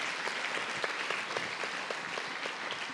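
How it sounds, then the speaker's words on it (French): Audience applause for Julie Zog, a staff member at Les Champs Libres, at a lecture, steady and dense clapping throughout at moderate level with no voices. "Julie, on peut l'applaudir aussi."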